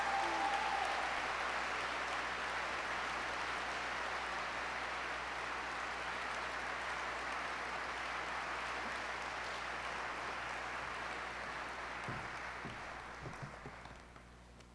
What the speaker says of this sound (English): So please join me in welcoming her with an applause.